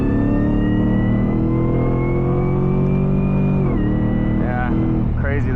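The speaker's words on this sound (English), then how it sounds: "So we'll do another pull with them closed, and you'll hear the whine a lot more now." Supercharged V8 of a Cadillac CTS-V under a hard acceleration pull with the exhaust valves closed, a steady high whine riding over the engine roar, rising then dropping at a shift, loud and close from inside the car.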